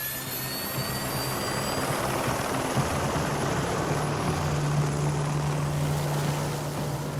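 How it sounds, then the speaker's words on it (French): A helicopter's rotor and engine roar steadily nearby, a dense continuous whine and thrum with no one speaking. "l'hélicoptère, il faut que ça s'approche très près de la statue"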